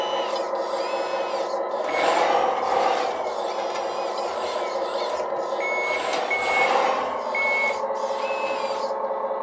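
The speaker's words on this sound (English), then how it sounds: "So if I turn left, you can hear the hydraulic pump fire up." Hydraulic pump whirring on a heavy RC truck as it steers, a steady mechanical whine with rasping surges rising twice, mixed with intermittent reversing-style beeps, close and fairly loud.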